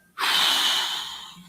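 A single soft, breathy exhale from a fox, brief and close, swelling quickly and tapering off like a small sigh.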